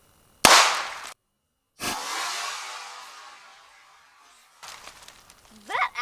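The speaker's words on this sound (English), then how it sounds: "I wasn't thinking that was going to explode so much because it's just a 22." .22 revolver shot into a pomegranate, heard as one sharp crack followed by a second burst and a decaying rush of noise, with voices talking briefly at the end.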